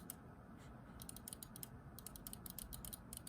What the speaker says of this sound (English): So I love the clicking sound.